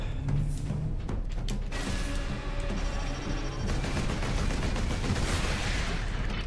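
Video-game turrets fire in sustained, dense bursts of rapid gunfire that rattle on without pause, loud and close throughout with no talking.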